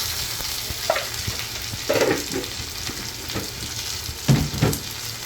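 Curry leaves are dropped into hot oil in a pan of curry made with jackfruit seeds, prawns and mango, giving a loud, steady sizzle and crackle with a few sharper spitting bursts as the pan is stirred.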